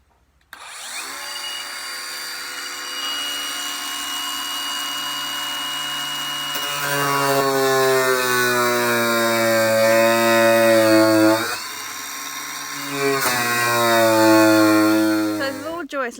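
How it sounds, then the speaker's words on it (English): An angle grinder cuts through the top of a DIY project, a loud, close, sustained whine whose pitch dips and climbs as it bites, with a brief break near the end. "Okay, I'm going to cut the top now. I've got my grinder"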